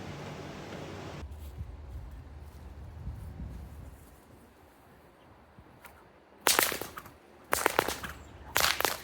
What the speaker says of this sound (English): Love the sound of fresh crackers in the morning.